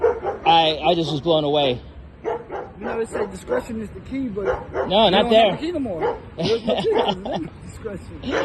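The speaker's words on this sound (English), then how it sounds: "Sorry about the dog." A dog on a street in Brownsville, Miami barks and yips in short bursts close by, mixed in with and partly under someone talking steadily.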